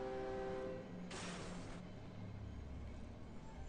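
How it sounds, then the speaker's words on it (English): A train in the video game Cry of Fear sounds a horn and then rumbles past, with a loud burst of noise in the middle and a low, steady rolling sound afterward. "let's walk until I hear the train"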